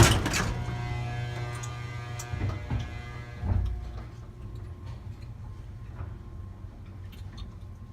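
An old Otis gated elevator's mechanism gives off a sharp click, then a few softer ticks and clunks over a low, steady machine hum, close by and with no talking.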